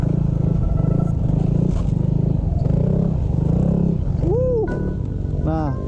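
A Yamaha NMAX scooter revs in quick bursts of abrupt throttle, a throbbing engine pulsing up and down close by, ending in a couple of sharp rising and falling whines.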